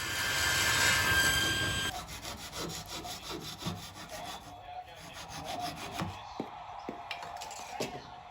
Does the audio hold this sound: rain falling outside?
no